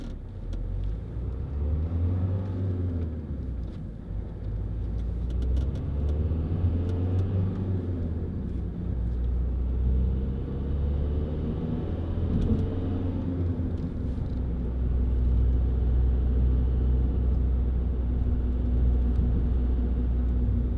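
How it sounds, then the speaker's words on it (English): A Vauxhall Zafira 1.9 CDTi 16v SRi diesel drives up a hill, its engine droning low and steady with gear-related pitch sweeps and road rumble from inside the cabin, no talking. "Coming up that hill, you can tell how well this car pulls."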